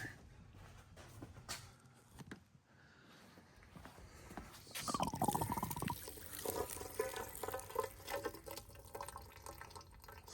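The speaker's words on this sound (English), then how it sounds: "we'll pour this down my oil disposal" Diesel fuel drained from a 70 Series Land Cruiser fuel filter is poured into an oil disposal container, a faint trickle that swells into a steady liquid pour and gurgle, with no talking.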